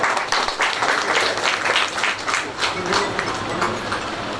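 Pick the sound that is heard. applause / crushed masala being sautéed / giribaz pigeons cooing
applause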